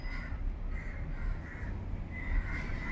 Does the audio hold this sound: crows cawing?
yes